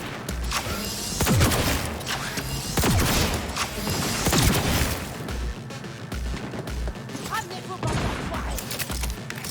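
Sniper gunfire in the video game Cyberpunk 2077: a busy barrage of sharp shots and crashing impacts with booms, mixed with game noise and someone talking over it.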